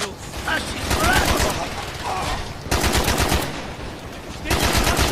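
Sustained automatic gunfire in the Call of Duty Black Ops shooter, loud rapid bursts in several long volleys with brief gaps, and voices shouting under the shooting.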